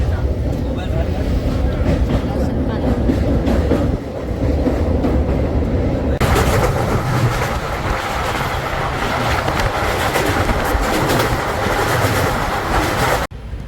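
A passenger train rolling into Jabalpur station, loud steady rumble and rhythmic clatter of wheels from inside the carriage, growing harsher partway through before cutting off, with talk in the background.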